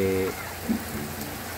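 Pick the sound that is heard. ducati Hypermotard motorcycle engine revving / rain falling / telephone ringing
rain falling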